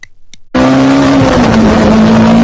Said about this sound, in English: I literally just saw a yellow XF and a black Forte speeding